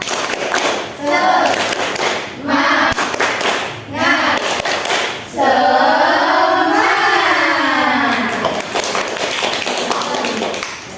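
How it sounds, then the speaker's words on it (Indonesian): Elementary school pupils in a classroom do a rhythmic spirit-clap chant, bursts of clapping and taps alternating with their sung chanting voices, loud and close. "1, 2, 3 tepuk semangat."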